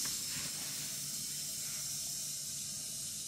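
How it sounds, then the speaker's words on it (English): Water leaking and pouring from under a sink gives a steady, continuous hiss and rush, close and fairly loud, holding even for the whole stretch with no talking over it. "It's a leak in the sink."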